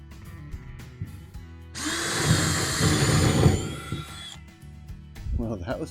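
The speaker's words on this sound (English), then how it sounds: "So first thing I'm going to do is drill some pilot holes, like some test holes" A power drill bores pilot holes through a wall while cutting a new intake vent for an AC/heater system. It whines loudly and steadily for about two and a half seconds, with someone talking before and after.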